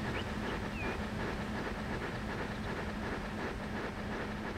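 Train in Transport Fever 2 rumbling steadily past, a continuous low rolling drone with faint rhythmic wheel clatter, moderately loud and unbroken, no talking.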